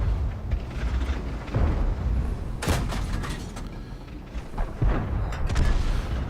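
Tank guns in the online game World of Tanks, heavy booming shots and rumbling blasts among a constant mechanical engine drone, with one sharp, loud report standing out near the middle, and no talking.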